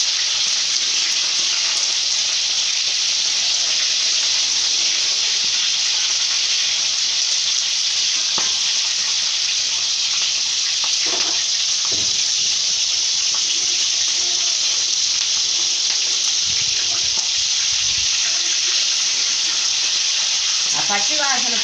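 Capsicum frying in oil gives a loud, steady sizzle that runs unbroken throughout, with a few faint stirring clicks and knocks scattered over the hiss.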